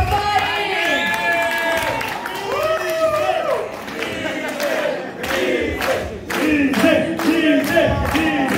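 At a children's show, a crowd shouts and cheers, with excited voices rising and falling before a burst of loud clapping in the second half.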